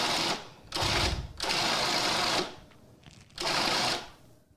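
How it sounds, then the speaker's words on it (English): A food processor coarsely grinds pheasant wonton filling in three loud pulsed bursts of whirring motor, each about a second long, separated by short pauses. "So we're going to add this to the food processor."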